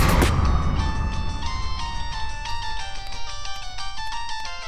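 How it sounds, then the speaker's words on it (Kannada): A phone rings with an electronic melodic ringtone, bright repeating tones sounding after a short burst of noise, fairly loud and near with nothing else competing. "ನಿನ್ಗೆ ಫೋನು ಅರ್ಜೆಂಟ್ ಅಂತೆ."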